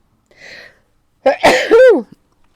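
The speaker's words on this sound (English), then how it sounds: "I'm gonna sneeze." A single close sneeze: a short breathy intake, a pause, then a loud explosive burst trailing into a voiced tail.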